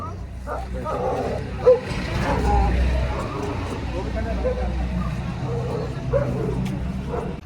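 A dog gives a few barks amid outdoor commotion, with people talking throughout and low rumbling noise in the background.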